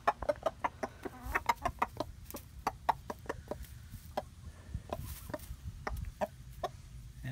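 Chickens and a rooster cluck and squawk in a busy, irregular series of sharp calls while fighting over a mouse in an open coop, with some knocking or scuffling sounds mixed in.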